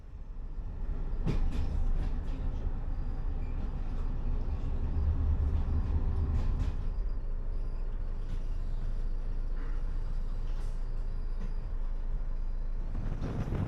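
A train on Hungarian railways rolls along at speed, a steady loud rumble of wheels and carriage noise with brief clanks and rattles, no voices.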